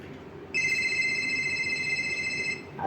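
A phone rings once with an electronic warbling tone that lasts about two seconds, clear and fairly close. A low room murmur sits underneath and no one speaks.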